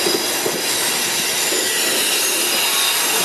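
MRS freight train with a helper locomotive in the middle of the consist, climbing a grade at Canguera; a steady, loud rolling rumble of railcars with high wheel squeal runs unbroken throughout, heard alone without voices.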